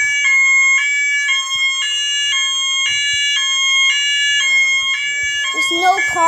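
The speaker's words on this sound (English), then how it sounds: "Fire alarm is pulled down." A Ford Firelight BG-12 fire alarm pull station sounds continuously during a system test with a repeating high electronic tone pattern, loud and close, with faint background noises and a brief clatter near the end.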